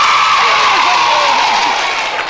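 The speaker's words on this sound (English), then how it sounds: "Come on, give Miss Baguley a big round of applause!" A primary school audience in a 1979 television studio applauds and cheers for a teacher, a loud, continuous wash of clapping and crowd noise.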